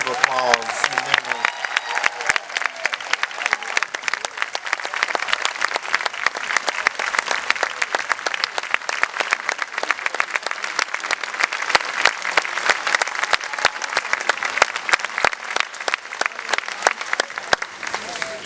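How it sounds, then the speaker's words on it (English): Sustained audience applause at a tribute during the 2019 Tupelo Elvis Festival, a dense, steady wash of many hands clapping for nearly twenty seconds, with brief voices at the very start. "Give them a big round of applause."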